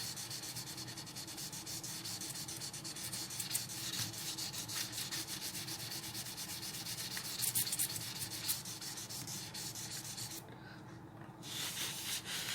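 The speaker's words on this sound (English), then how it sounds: "Now to make it soft, you will use cotton or earbud again." Cotton or an earbud rubbed over paper to blend pencil shading on a still-life drawing, making a soft, continuous close-up scratching and rubbing with a brief pause near the end.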